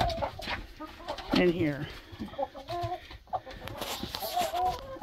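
Six roosters living together cluck and murmur close by in overlapping bursts, with a brief spoken remark among them.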